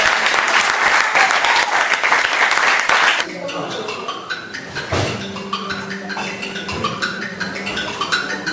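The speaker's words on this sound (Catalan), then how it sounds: "Aplaudim, per favor." A school audience claps loudly for about three seconds, then the applause breaks off and gives way to soft music with sustained tones and a low thump, at a school performance about a voyage to Ithaca.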